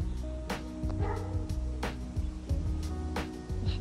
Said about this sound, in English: That does sound like a big angry dog